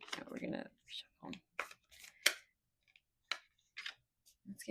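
Quick papery riffling and snapping bursts of shuffled cards, several short flurries with pauses between, close by, with brief breaths or murmurs mixed in.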